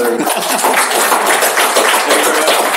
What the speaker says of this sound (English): So maybe we can give a round of applause to our